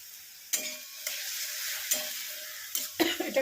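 Onions and ginger sizzle in a hot pan over high heat, a steady soft frying hiss broken by four or five sharp stirring scrapes at irregular intervals, close and alone without voices.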